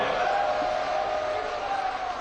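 Sustained crowd cheering and applause for the Prime Minister at a public rally in Badrinath, Uttarakhand, a steady, distant-sounding roar of many voices that holds even throughout.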